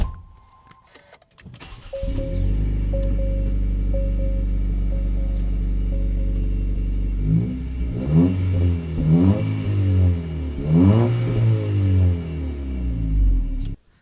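A 2023 Acura Integra sits idling with a steady drone, then the engine is revved repeatedly in rising and falling bursts, loud and close, with no talking.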